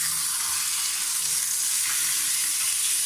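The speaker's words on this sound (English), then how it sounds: "And we're gonna be burning this fat." Fat on a steak sears in a hot pan with a continuous, close, even hiss and sizzle throughout.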